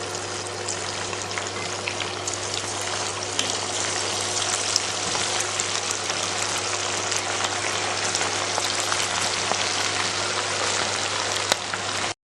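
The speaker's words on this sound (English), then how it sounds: "We are supposed to deep fry the mutton pieces." Mutton pieces deep frying in hot oil in a kadai give off a steady, dense crackling sizzle with scattered sharper pops, close and even throughout with no voices.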